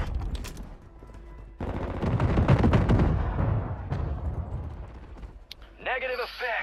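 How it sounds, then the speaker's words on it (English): Missile strike explosions in Call of Duty Warzone, a heavy rumbling barrage of blasts building and rolling for several seconds, followed by a voice over a radio-like channel. "Missile strike failed to hit designated threats"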